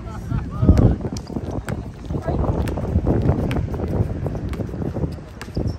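Steady wind buffeting the microphone with a constant rumbling roar at an outdoor basketball game in a Dubai park, with faint voices and scattered knocks beneath it.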